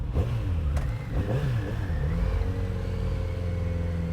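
A close 2019 Kawasaki Z900RS Cafe engine revs, its pitch swinging up and down before settling into a steady, throaty drone; loud and continuous with no voices.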